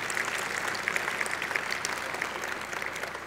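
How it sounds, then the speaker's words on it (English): Dense audience applause fills a gala award ceremony hall, a steady wash of many hands clapping at moderate volume throughout, with no talk over it. "Another round of applause for Complete Recovery."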